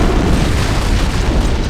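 A loud, sustained rumbling blast from an antimatter charge explosion aboard a ship in the Halo video game, a dense roar filling the whole moment with no speech.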